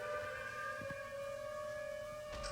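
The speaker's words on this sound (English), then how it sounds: "Alright, we're getting some sirens." A civil defense storm warning siren wails steadily as a tornado funnel forms during a storm chase, a sustained layered tone with harmonics, loud and continuous throughout, with no talking.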